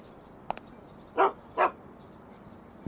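A dog in the PlayStation 2 game Shadow of Destiny barks twice in a marketplace, two loud, close barks about half a second apart, with a small yip just before them.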